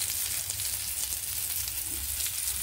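Eggplant slices fry in a pan with a steady, dense sizzle that holds evenly throughout, with no talk over it.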